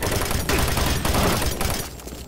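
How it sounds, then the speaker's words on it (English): Rapid bursts of gunfire from a new weapon in Doom 3, loud and near, coming in dense volleys separated by brief gaps before trailing off at the end. "Let's try out our new gun."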